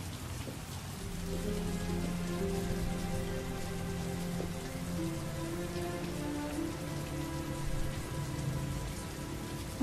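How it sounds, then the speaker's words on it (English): Rain in the video game Heavy Rain falls as a steady, dense hiss, loud and continuous throughout, with a soft low musical drone underneath. "Watching the rain, it's just amazing."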